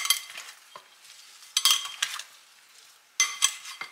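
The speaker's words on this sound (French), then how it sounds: "Je mélange la salade." A salad with basil, salt, pepper and olive oil is tossed in a bowl, giving soft rustling and a few short bursts of utensils scraping and clinking, up close.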